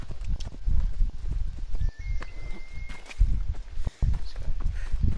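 Horse hooves in Assassin's Creed Odyssey clop along at a steady walking rhythm, close and fairly loud, with a brief faint tonal sound partway through and no talking over it.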